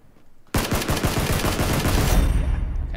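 Automatic rifle fire in PlayerUnknown's Battlegrounds erupts after a quiet half-second, a loud, fast string of close shots rattling on steadily to the end.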